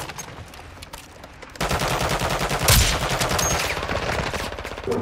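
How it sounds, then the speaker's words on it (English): Gunfire in Call of Duty DMZ, opening with sporadic distant shots, then a loud sustained spell of rapid automatic fire with a sharp nearby blast in the middle, continuing until the end. "You are taking effective fire."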